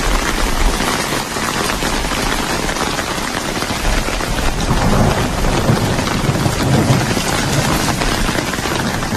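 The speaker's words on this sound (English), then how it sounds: "Heavy rains caused by Cyclone Yaku caused massive destruction in Peru." Heavy rain pours down during Cyclone Yaku in Peru, a dense, steady roar of rainfall on surfaces with low rumbles of thunder rolling underneath throughout, loud and close with no voices.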